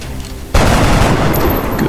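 Rapid, loud burst of gunfire in the strategy game X-COM Long War, starting abruptly after a quiet moment and continuing as a dense, sustained volley.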